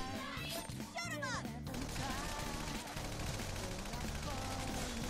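Rapid bursts of fan out shot gunfire in the video game Persona Strikers, a dense continuous volley of shots layered with game effects and voices.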